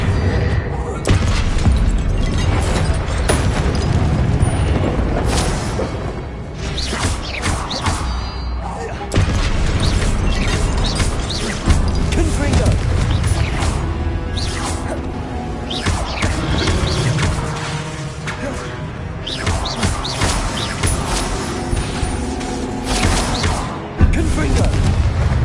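Repeated booming Confringo fire-spell blasts from the Hogwarts Legacy video game burst against statues, with loud thuds, crashes and shattering debris coming in irregular bursts over game music and effects, and a voice speaking now and then.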